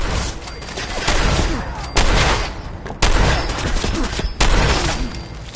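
Gunfire in a PS4 video game, dense loud volleys of shots in several sustained bursts with sharp onsets every second or so, close and booming with no talk over it.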